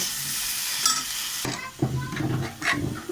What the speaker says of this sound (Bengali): একটু নেড়ে নেড়ে ভালো করে খিচুড়িটা বানিয়ে নিতে হবে